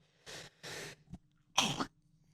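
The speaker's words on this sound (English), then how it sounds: "that sneeze might have to stay in the episode" A person sneezes, a short burst of explosive breathy bursts in a quiet room, with two quick puffs, a small click and a final stronger sneeze, close and fairly soft.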